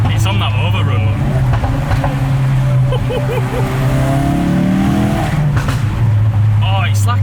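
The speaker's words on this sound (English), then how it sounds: "There's a Miltech stainless valved exhaust which allows for some rather loud crackles and pops." Car with a Miltech stainless valved exhaust on overrun, a loud close engine drone with revs falling and rising and sharp crackles and pops at the end, while people talk over it.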